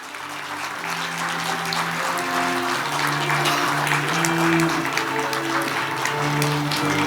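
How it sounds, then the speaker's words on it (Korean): Steady applause fills an awards ceremony hall as a prize recipient and spouse walk to the stage, building slightly and holding, with sustained musical tones playing underneath the clapping. "수상을 축하하는 따뜻한 박수 보내주시면 감사하겠습니다."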